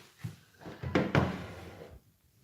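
A door is handled and opened at home, giving a few close knocks and thuds, then a louder clunk of the latch and the swing of the door before quiet returns.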